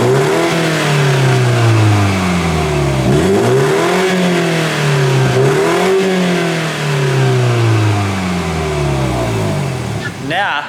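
A BMW 125i with a stock exhaust fitted with Toyota 86 tips revs repeatedly, the engine note rising and falling in several loud, close sweeps, with a voice talking over it.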